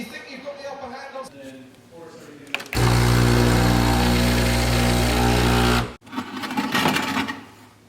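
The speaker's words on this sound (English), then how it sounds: "early enough to watch F1, so you can kind of hear that in the background" A Formula 1 race engine roars from a TV broadcast as a loud, steady mechanical drone lasting about three seconds, with a person talking before and after it.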